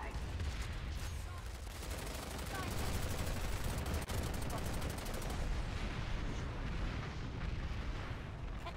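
A grenade goes off amid a PlanetSide 2 firefight, inside a dense, continuous wall of gunfire and explosions that rattles on steadily throughout, loud and crowded.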